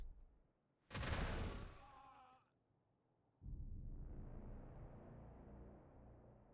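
Gunfire in the Warhammer 40K Gladius strategy game: a loud burst of shots, then a quieter pause, then a sustained rumbling roar of fire or battle noise.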